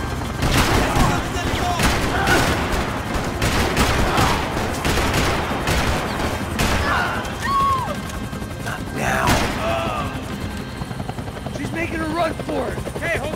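Rifle gunfire during a Max Payne 3 cutscene, bursts of shots mixed with a loud helicopter roar and shouting voices, the firing clustered early with more scattered cracks later.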